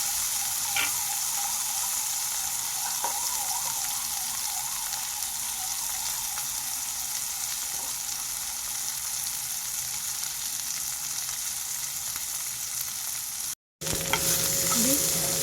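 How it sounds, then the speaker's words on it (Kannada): Byadgi chillies and tomatoes roast in a pan over full high flame, giving a steady, loud sizzle and frying crackle throughout with occasional stirring, then a brief dropout near the end. "ಬ್ಯಾಡಗಿ ಮೆಣಸಿನ್ಕಾಯಿ ಇಷ್ಟು ಸಹ ಚೆನ್ನಾಗಿ ರೋಸ್ಟ್ ಆಗಬೇಕು"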